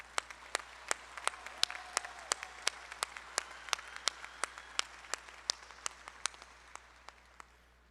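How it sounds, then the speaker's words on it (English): Audience at an LSU College of Engineering fall commencement claps in a steady run of sharp, evenly spaced claps over a soft crowd murmur, fairly distant in a large hall. "Please join me in giving these distinguished communicators a round of applause."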